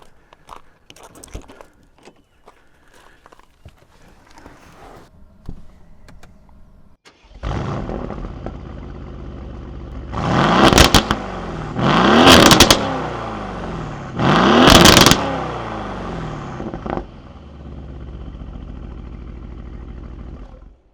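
An Aston Martin Vantage engine fires up with a sharp roar, then revs hard in three loud bursts before settling into a deep, burbling idle.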